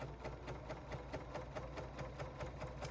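A Bernina 880 Plus sewing machine runs a short 2.0-length quilting stitch at a steady, fast pace, its needle ticking in an even rhythm, quiet and close.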